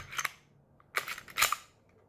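An HK VP9 pistol trigger is pulled through to its break, producing a few crisp, close mechanical clicks in short clusters with quiet gaps between them and no voices.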